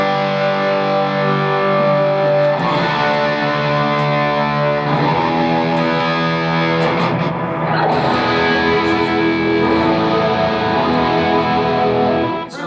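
Electric guitar cranked loud through an open-back tube amp on a Silent Sister isolation cab, thick distorted sustained chords ringing continuously and steadily at full volume with no talking.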